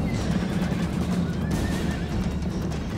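Horses neighing on a Rome: Total War battlefield amid cavalry fighting, loud drawn-out whinnies rising over a dense rumble of hooves and battle noise.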